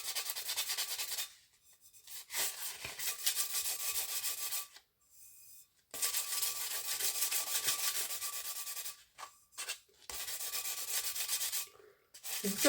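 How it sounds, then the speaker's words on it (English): Sandpaper rubs steadily over a glittery resin-coated tumbler in close, scratchy bursts, pausing briefly between passes. "I'm just going to take those down with a bit of sandpaper."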